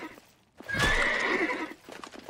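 A horse in a medieval video game lets out a loud, shaky whinny lasting about a second, followed by a few soft hoof clops.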